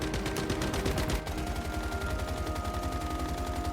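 Rapid bursts of automatic gunfire from the video game Once Human, dense and continuous across the whole stretch, loud and close with no pause.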